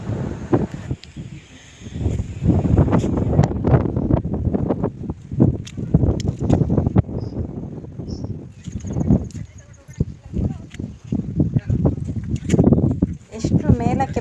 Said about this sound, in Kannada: ಗಾಳಿಯ ಶಬ್ದ ನೋಡಿ.